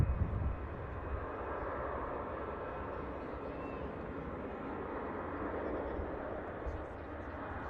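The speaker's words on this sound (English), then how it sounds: "EasyJet touches down nicely." An easyJet airliner touches down at Manchester Airport, its steady broadband jet roar holding at a constant level from a distance for several seconds, with no talk over it.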